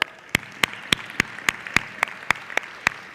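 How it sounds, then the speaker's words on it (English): Slow, evenly spaced hand claps, about ten sharp hits a few tenths of a second apart, ring out clearly in a quiet hall at a children and young people's forum panel, with no talking over them. "Let's give them a warm round of applause."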